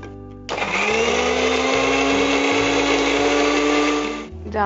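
A mixer grinder whirs loudly and steadily for about four seconds as it grinds green chilli, starting abruptly and winding down at the end, with a low hum underneath.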